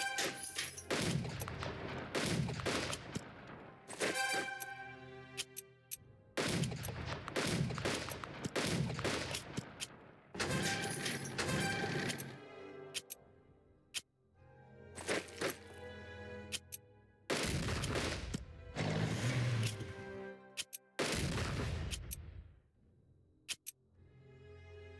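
Bombing and gunfire in the strategy game Unity of Command 2 come as a series of loud, booming broadband bursts, each lasting a couple of seconds and separated by short quiet gaps.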